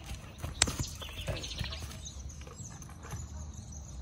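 A horse steps backward with its head lowered during groundwork training, giving a few soft, scattered hoof thuds on the ground, moderately close with faint background noise.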